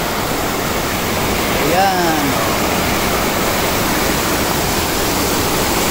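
Steady, dense roar of falling water at Danum Resort, a loud, unbroken wash of noise throughout, with someone briefly speaking over it near the start.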